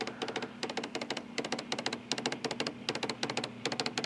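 An old fax machine used as a printer prints a page, giving a steady run of rapid, close mechanical clicks and ticks over a faint low hum.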